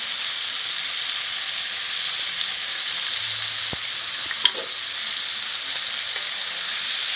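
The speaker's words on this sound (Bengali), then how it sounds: "এই মশলাগুলো যাতে ভাজা যায়, মাছের সাথে লেগে লেগে যায়, সেজন্য আমি এটা আরও হালকা করে কিছুক্ষণ নাড়বো।" Fish frying in a pan with garlic, ginger and cumin paste, a steady close sizzle that runs throughout, with a soft scrape or two from stirring and no voices.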